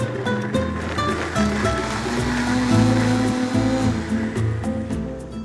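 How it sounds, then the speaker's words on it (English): A blender whirring chile sauce until smooth, a loud continuous motor drone with shifting pitch and churning liquid, no speech. "the top goes on here, and we're going to blend it until it becomes smooth"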